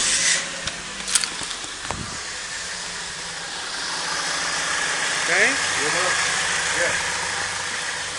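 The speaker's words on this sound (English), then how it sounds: "This is how this vehicle sound now." A car engine with a check engine light on idles steadily in the background, a low continuous hum under hiss, with a person briefly speaking near the start.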